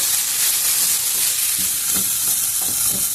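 Chopped onions and potatoes fry in hot oil with a loud, dense sizzle, and a spatula scrapes and stirs them in a few soft strokes. The sound is close and constant.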